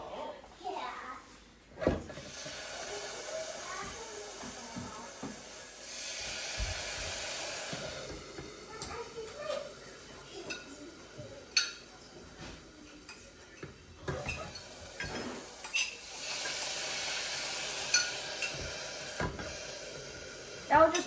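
Food steams and sizzles in a covered pan on a home kitchen stove, giving a steady hiss with occasional clinks of pans and utensils, while voices talk nearby.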